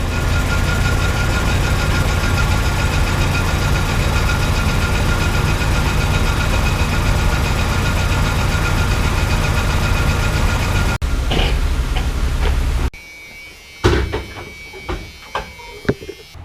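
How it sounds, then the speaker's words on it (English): A 1979 Camaro engine idles as a loud, steady rumble for about thirteen seconds, then cuts off abruptly, leaving a quieter space with scattered knocks and faint sounds. "The engine sat and idled and ran off of the gas from the tank with no leaks"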